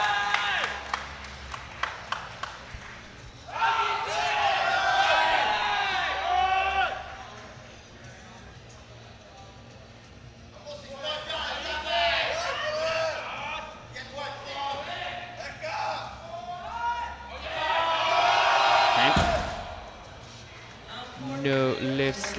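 Bursts of crowd applause and cheering at a European junior powerlifting championship, several separate swells of clapping and shouts rising and fading between quieter stretches, with a commentator talking throughout.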